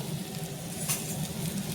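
Kudri (ivy gourd) fries in hot oil in a pan, giving a brief, steady, moderately quiet sizzle with no voices.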